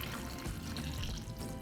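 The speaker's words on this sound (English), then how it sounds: "We're going to cover them with water," Water pours into a saucepan over tomatillos and chiles. A soft, continuous splashing trickle with no talk is heard faintly throughout.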